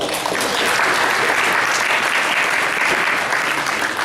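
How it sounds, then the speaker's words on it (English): Steady, dense applause from an audience at a Montgomery County Executive candidates' debate, filling the whole stretch at an even loudness with no break. "give yourself a round of applause"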